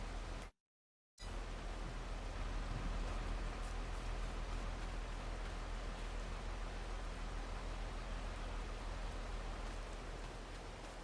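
Steady rain hisses evenly and continuously with no distinct drops standing out, briefly cutting to silence near the start before resuming unchanged.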